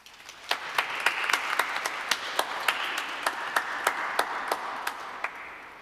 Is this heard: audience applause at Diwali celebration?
yes